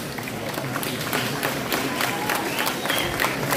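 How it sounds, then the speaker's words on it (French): A crowd at a French cosplay contest applauds and cheers in a loud, dense wash of clapping, with voices mixed in among the noise. "Faut applaudir."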